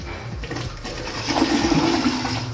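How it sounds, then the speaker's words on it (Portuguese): A dual flush toilet, freshly repaired, is flushed once: a steady rush of water builds and swells toward the end, running alone and fairly close with no talk. "Vou dar uma descarga aqui pra testar."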